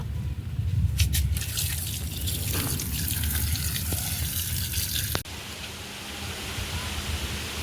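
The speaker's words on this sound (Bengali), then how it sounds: "তালগুলো ভালো করে ধুয়ে নেব।" Palm fruits being washed in water: steady close splashing and running water with a few knocks and clunks, then a quieter, even wash after a sharp change partway through, with no voices.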